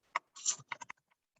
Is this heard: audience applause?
no